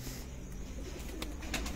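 A male pigeon coos softly in a low, continuous murmur, with faint chirps and rustles mixed into a noisy background.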